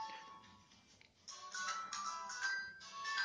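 A mobile phone rings in a room, a looping electronic ringtone that repeats in phrases and grows slightly louder over a few seconds, with no talking over it.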